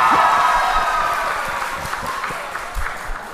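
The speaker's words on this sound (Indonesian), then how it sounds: "kita tepuk tangan untuk kor" A congregation applauds the church choir at a priestly ordination, a burst of clapping that starts full and gradually thins out and fades.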